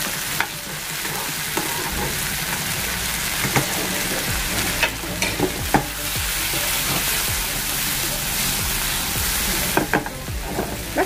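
Tomatoes stirred and fried in a pan, a continuous loud sizzle with scattered spoon scrapes and crackling pops, close up and without speech.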